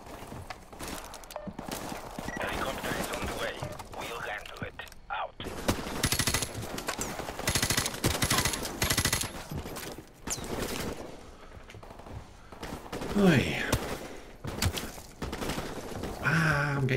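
Gunfire in Call of Duty: Modern Warfare Remastered, with dense bursts of automatic fire and sharp single shots, loud and close, broken by short pauses.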